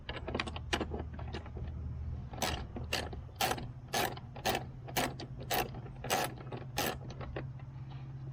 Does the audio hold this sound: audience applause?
no